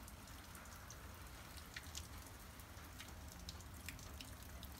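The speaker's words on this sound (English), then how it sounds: "Seems like it is currently raining and sleeting." Steady wet hiss of rain mixed with sleet falling outdoors during a winter weather event, faint and continuous with scattered drip-like ticks.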